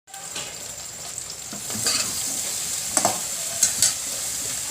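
Food stir-fried in a wok, with a continuous sizzle and several sharp scraping and clanking strokes of the utensil against the pan, loud and close, with no talk.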